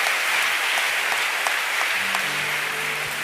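Congregation clapping at a church worship gathering, a dense continuous round of applause from a crowd filling the room, steady throughout with faint sustained tones entering near the end.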